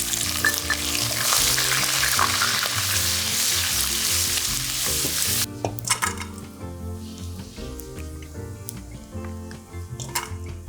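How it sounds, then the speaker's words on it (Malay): A handful of anchovies (ikan bilis) frying in hot oil until crispy, a loud, dense sizzle with crackling that drops to lighter popping and occasional stirring clinks partway through. "1 genggam ikan bilis, goreng sampai garing."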